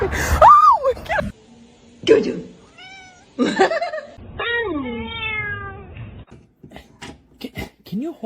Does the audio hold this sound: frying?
no